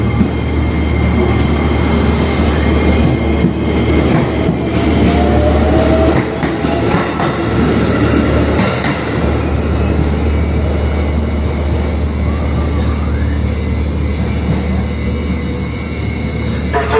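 Train at Tanjung Priok station in Jakarta, a steady loud rumble of rail cars with rolling wheel noise and faint squeals, continuous and close throughout.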